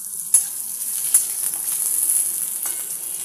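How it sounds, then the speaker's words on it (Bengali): Potatoes frying together in a pan give a steady hiss of hot oil, with a few brief sharp spikes where pieces are turned or shifted. "এইবারে আমি আলুগুলো একটু ভেজে নেবো বন্ধুরা"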